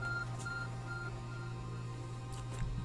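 Arc Phone in Pokemon Legends Arceus emits a series of short electronic beeps, clear and fairly steady over a low steady game hum, with no talking.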